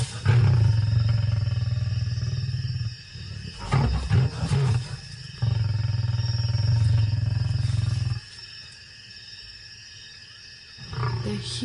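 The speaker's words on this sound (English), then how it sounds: "those growls and roars just rattle through your body" An adult male lion growls and roars at night, the sound deep, loud and rumbling, coming in long sustained bouts broken by brief pauses.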